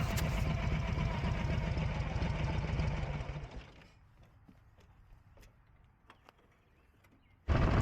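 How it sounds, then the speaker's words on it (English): Harley motorcycle engine rolling to a stop in neutral, loud rhythmic engine thrum that drops off to a faint, uneven idle with small mechanical ticks, then a sudden loud surge at the end. "shift into neutral, and then brake to a stop."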